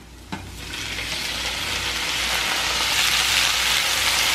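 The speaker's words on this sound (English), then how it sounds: "And then we added the raw shrimp to it." Raw shrimp hitting hot oil with garlic, crushed red pepper and cloves, opening with a sharp tap, then a loud, steady sizzle that builds and holds close up, no talking.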